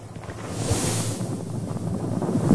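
Ocean waves and wind acting on a sailing boat at sea, a steady broad wash of surf with gusty wind buffeting the microphone throughout, no speech.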